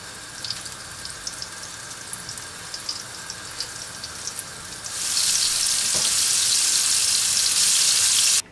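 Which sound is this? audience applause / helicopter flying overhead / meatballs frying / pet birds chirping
meatballs frying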